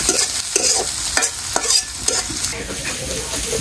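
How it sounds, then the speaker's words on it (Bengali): Onions fry in a pan, a steady close sizzle broken by repeated scraping and stirring strokes at an irregular rhythm, with no voices. "পেঁয়াজ ভাজি হয়ে গেছে"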